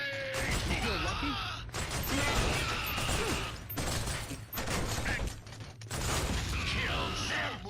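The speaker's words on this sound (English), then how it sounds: "Gotta reload the LMG." LMG reloaded in Killzone, a run of mechanical clacks and ratcheting clicks mixed with grunting voices and battle noise, close and fairly loud across several bursts.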